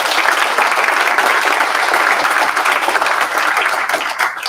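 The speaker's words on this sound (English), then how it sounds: "Can we give Jeremy another massive round of applause?" Dense, loud applause from an audience at a showcase event fills the whole stretch, a steady wash of many hands clapping that thins slightly at the very end.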